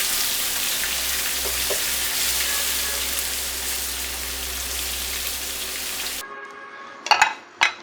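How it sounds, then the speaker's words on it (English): Mala-spiced hairy tofu deep fries in hot oil, giving a dense, steady crackling sizzle that runs alone for several seconds and then stops abruptly, followed by a few sharp clinks and knocks. "I'm just going to deep fry it because that's my favorite way to eat tofu"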